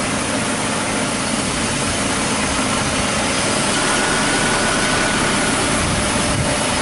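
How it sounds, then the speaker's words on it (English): A car engine idles loudly and steadily with the A/C system running, a dense close hum and whir that stays constant throughout, with no speech. "If you can catch it right when that compressor is kicking on, that's the best time to do it."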